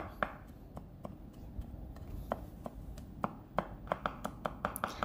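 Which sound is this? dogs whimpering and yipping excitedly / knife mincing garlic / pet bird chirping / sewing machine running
knife mincing garlic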